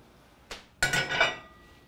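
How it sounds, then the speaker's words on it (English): A small ceramic plate is lifted from a stack in a home kitchen, giving a light tap and then a bright, ringing clatter of dishes knocking together, close and alone for about a second. "I'm going to grab a little plate."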